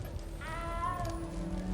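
A cat in Hogwarts Legacy gives a single drawn-out meow, moderately loud, over a low game background hum.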